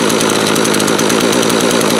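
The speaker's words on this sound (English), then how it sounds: "I'll pull the pull start, and we'll see how it starts." A Makita EM2600L gas string trimmer engine running at a steady idle, loud and close, with a continuous buzzing, rapidly pulsing two-stroke putter and no voices.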